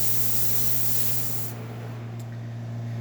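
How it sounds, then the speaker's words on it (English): Steam wand on an Olympia Cremina espresso machine, freshly serviced, letting out a loud continuous hiss that drops off partway through, leaving a low electrical hum underneath. "excellent steam coming out from this machine"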